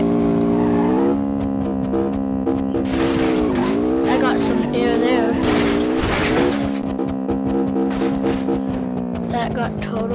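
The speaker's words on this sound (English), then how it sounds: "Let's just crash it." Car in the BeamNG.drive driving game crashing after getting air, with a sustained engine drone, screeching tires and scraping crunch bursts in the middle, loud and continuous.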